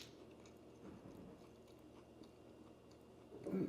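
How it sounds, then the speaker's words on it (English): Someone bites into crispy-edged French toast made in an air fryer, giving a few quiet, close chewing crunches that swell into a louder crunch at the end. "Nice crunch on the edge."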